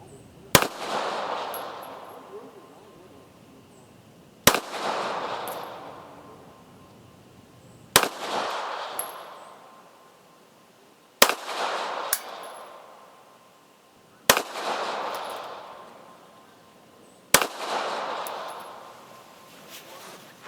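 Six loud, evenly spaced gunshots from a Taurus Spectrum pistol at an outdoor shooting range firing reloaded ammunition, each sharp crack followed by a decaying echo, roughly three seconds apart.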